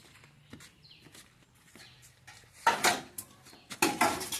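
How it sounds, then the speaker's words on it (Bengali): Plates and dishes scrubbed and washed by hand outdoors, irregular clinks and clatters of crockery, quiet at first then louder, bursty scraping and knocking toward the end. "অল্পই থালা বাসন পড়েছে। এটা মেজে দিয়ে পরিষ্কার করে নেবো।"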